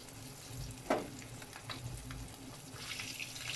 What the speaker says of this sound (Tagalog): Balik pa rin na natin itong ating piniprito